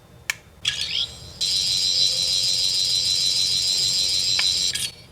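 A Doctor Who 15th Doctor sonic screwdriver toy gives a few short clicks, then a steady electronic warbling tone that holds for about three seconds and cuts off sharply, close and alone.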